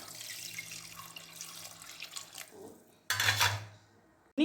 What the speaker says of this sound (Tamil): இப்போ இதுக்கு வேகிறதுக்கு தண்ணி சேர்த்துறாங்க.